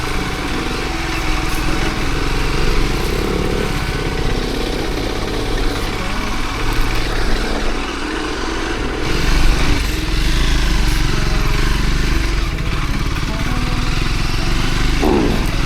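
A Triumph Scrambler 400X and a KTM Duke 200 motorcycle ride along a road in Nuwakot, with a loud, steady engine drone and exhaust note that holds throughout.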